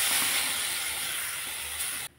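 Ground chickpea lentil paste sizzles in a lightly oiled kadai, a brief, steady hiss that fades slightly before cutting off abruptly.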